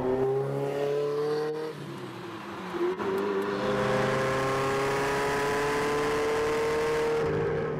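A Ferrari GTO engine on the road gives a sustained tone that dips briefly as it shifts, then climbs steadily under acceleration, close and fairly loud with no voices over it.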